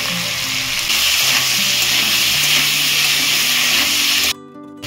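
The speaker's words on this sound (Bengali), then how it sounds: "আলুগুলোকে হালকা ভেজে নিয়ে তুলে নেবো" Potatoes seasoned with salt and turmeric fry lightly in oil, a loud, continuous close-up sizzle that holds steady for several seconds before cutting off abruptly.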